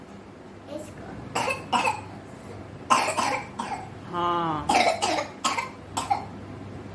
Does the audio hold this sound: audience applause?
no